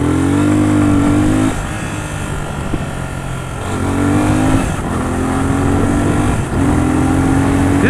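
A 2024 Yamaha FZ 25 motorcycle engine revs loudly and close, with sustained high throttle blips that drop back briefly to a rough idle before climbing again.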